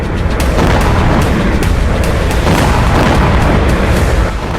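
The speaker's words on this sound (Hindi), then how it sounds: "मागुरा V5 में लगी मिसाइल ने नोवरोसिस्क नेवल बेस को हिट किया, जोरदार धमाके के साथ बारूदी गुबार आसमान में उठता दिखाई दिया" Missile explosion at the Novorossiysk naval base, heard as a dense, loud roaring blast wash with repeated sharp cracks and pops through it, sustained throughout before easing slightly at the end.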